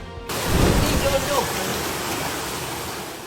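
Heavy rain pours down in Sarangani, Philippines, during flooding, as a dense, steady hiss, swelling slightly before settling into a constant roar.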